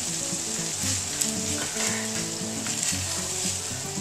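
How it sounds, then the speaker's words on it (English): Sauce cooks on low heat in a pot, and it gives a steady bubbling sizzle with some faint scraping or stirring. A few brief clinks sound close by, and no one talks. "you just want to simmer it for about 10 minutes"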